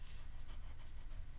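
Large, giant dog panting, quick rhythmic breaths close to the microphone, steady and fairly soft, with no talk over it.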